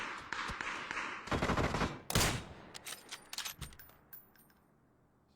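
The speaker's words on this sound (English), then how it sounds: "Someone's shooting at me." Gunfire in the battle royale game PUBG, with several loud bursts and single shots cracking out over about five seconds, some close and sharp, others thinner and farther off.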